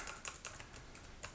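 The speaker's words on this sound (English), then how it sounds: "If we type some in here," Fingers type on a computer keyboard in a quick, irregular burst of crisp, close clicks, each keystroke sharp and light, with no talking.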